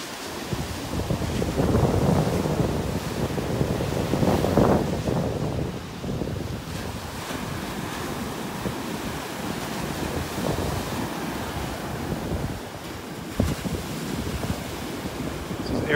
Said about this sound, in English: A mile of beach here at Delnor-Wiggins.